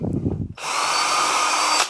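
A small drill bit boring hinge holes in wood: a brief low rumble, then a loud steady high-pitched whine of the power drill running for over a second before it stops.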